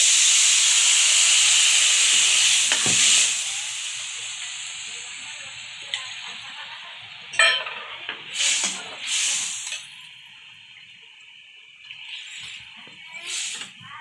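Wet fennel paste hits a hot pan of sautéed onions with a loud steaming hiss that fades, followed by a few softer sizzling bursts as it is stirred.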